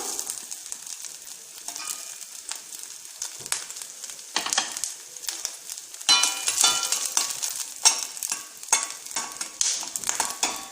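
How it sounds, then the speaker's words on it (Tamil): Coconut and tamarind sautéing in a pan for pear chutney, a steady crackling sizzle with bursts of stirring and scraping throughout, close and fairly loud, with no voices. "நம்ம வச்சிருக்கிற தேங்காய், புளி இது கூடயே சேர்த்து லேசாக வதக்கி எடுத்துக்கிட்டா போதும்"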